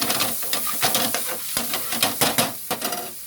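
Chopped capsicum and onion sizzle and crackle in a hot pan with ginger, broken by repeated stirring scrapes and clanks of a spoon against the pan, loud and close.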